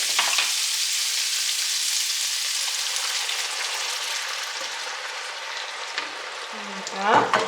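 Lechon stew sizzles loudly in a pan as it is stirred, a steady frying hiss that fills the whole stretch, with a brief scrape near the end.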